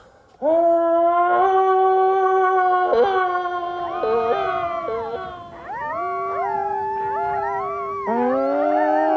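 Several wolves in a frozen northern setting howl together in long, rising and falling tones, overlapping voices sliding up and down in pitch, loud and close with brief pauses between swells.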